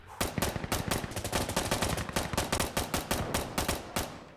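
Rapid automatic MP7 fire in Insurgency Sandstorm on the Tideway map: a dense, steady string of sharp gunshots, loud and close, with no talking.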